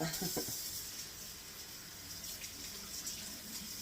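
Tap water runs steadily into a kitchen sink while something is rinsed off, a continuous soft hiss and splash with a few faint clatters near the start, no talking.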